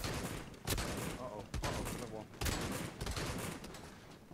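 Gunfire in the PSVR shooter Bravo Team, a dense run of sharp shots and bursts layered with game effects, close and loud throughout, with voices also present.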